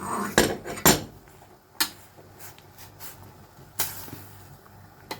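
An egg is beaten in a bowl for homemade noodle soup. A few sharp, separate clinks of utensil on dish ring out at uneven intervals, with softer scraping in between and no talking.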